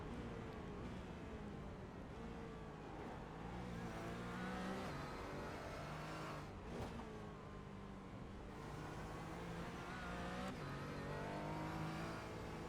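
Porsche and Aston Martin race cars in a racing video game, engines droning and revving steadily at close range with shifting pitch throughout, no voices over them.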